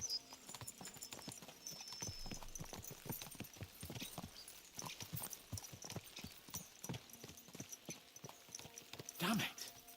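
Horse hooves clip-clop in a fast, steady rhythm through most of a medieval open-world video game scene, with background game sounds and a brief louder burst near the end.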